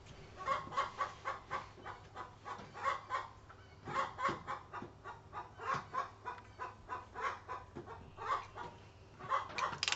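A chicken clucks in a steady run of short, rhythmic calls, fairly close and moderately loud, with faint background noise and no talk over it.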